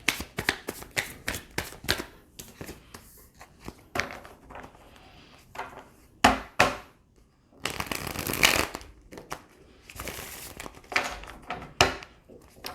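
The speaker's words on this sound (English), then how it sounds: "I'm gonna shuffle 3 shuffles and then deal out the cards that way instead." Tarot cards being shuffled in humid weather that makes them stick, giving repeated bursts of riffling and sliding card noise, close and fairly loud, in uneven bursts with short pauses between shuffles and no talking.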